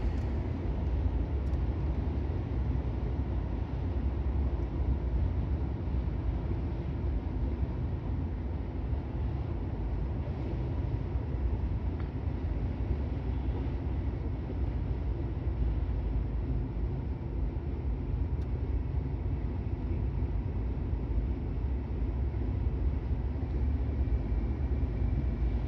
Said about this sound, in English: One thing I have noticed is this passenger window, a little bit more wind noise.